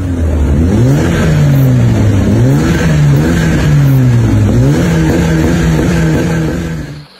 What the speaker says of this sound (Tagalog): Another free flow muffler yan.